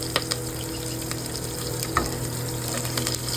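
Cumin seeds, curry leaves and green chilies crackle in hot oil for dal khichdi, making a constant close sizzle with scattered small pops and no talking.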